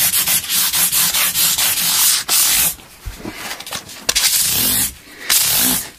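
Edges of a Maurice Maddison are hand sanded with 600 grit sandpaper in close, rhythmic rasping strokes, repeated back and forth with brief pauses between passes.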